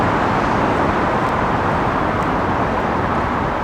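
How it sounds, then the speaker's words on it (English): Continuous road traffic roars close by, a dense broadband wash of passing cars and a bus with no gaps, heard at a roadside during a cycling stop to fix a tyre. "I hope you can hear me with all the traffic noise behind me"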